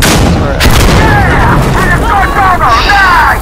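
An explosive detonating in the video game Insurgency Sandstorm: a loud, close boom with rumbling low end that lingers, with excited voices talking over it.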